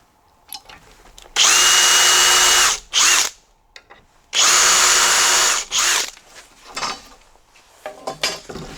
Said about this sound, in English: Make It Snappy self-centering drill bit.